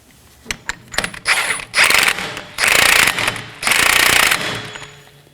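A ratchet or impact tool snugs the CV axle nut on a 2018-2024 Chevrolet Equinox 1.5L, with a few metallic clicks, then three loud close bursts of rattling, whirring tool noise.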